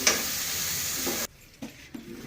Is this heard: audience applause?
no